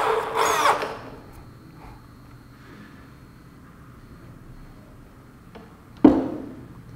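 A Bosch GSB 500 RE corded electric impact drill gives a loud whirring burst as a fitting is loosened. It falls to a low hum, then surges again briefly near the end as it is tightened, with no talking.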